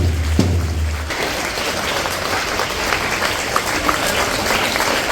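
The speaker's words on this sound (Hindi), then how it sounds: "तालियां बजती रहे।" Sustained applause and clapping from an audience at a school event honoring top students, steady and dense throughout with a brief low hum at the start.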